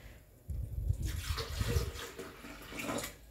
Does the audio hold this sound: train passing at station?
no